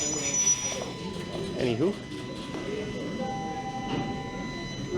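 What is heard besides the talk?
noisy train passing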